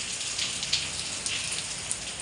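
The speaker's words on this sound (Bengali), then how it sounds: "এই যে বৃষ্টি নামছে দেখেন" Steady rain pours down evenly in Al-Qassim, Saudi Arabia, a dense hiss of drops on surfaces with a few louder splashes, nearby and continuous.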